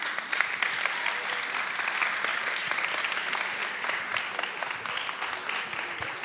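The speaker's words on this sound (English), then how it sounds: "Please give them another round of applause." Audience applause after speakers at a youth speak-up event, dense sustained clapping from a crowd, loud and even throughout with a faint murmur of voices beneath.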